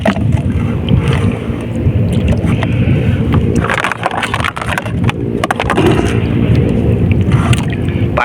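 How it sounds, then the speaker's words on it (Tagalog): A small fishing boat out at sea, with loud, constant wind buffeting the microphone over the rush and slap of water against the hull, with no talking. "Nandito naman tayo sa laot at tayo ay mamimingwit ulit"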